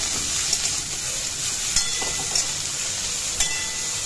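Ginger paste frying in a pan as the base for a five-lentil panchratna dal, giving a steady, close sizzle with a few soft clicks and stirring scrapes, no voices.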